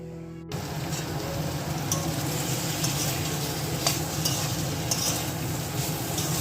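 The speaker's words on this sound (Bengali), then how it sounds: "পটল আলু কষানো কমপ্লিট হয়ে গেছে" Pointed gourd and potatoes are stirred in a hot pan, with a steady sizzle of frying and occasional scraping clicks of the spatula, close and continuous.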